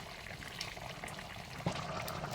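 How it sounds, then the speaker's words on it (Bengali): A pot of water at a rolling boil for a fish-head and radish curry bubbles softly, with a brief splash as a fish head drops in. "বলক এসে গেছে, এবার একে একে মাছের মাথাগুলো দিয়ে দেব।"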